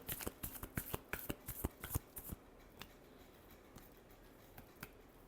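Tarot cards shuffled in a quick run of crisp riffling snaps for about two seconds, then a few scattered soft card flicks and taps in a quiet room.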